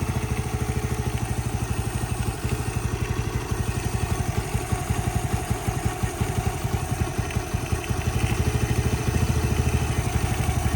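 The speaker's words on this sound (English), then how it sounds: "Responds well to the idle speed adjustment." Ice Bear 125 CT70 clone single-cylinder engine fitted with a Nibbi carburetor, idling steadily with a fast, even putter and light mechanical clatter, close and continuous throughout with no talk.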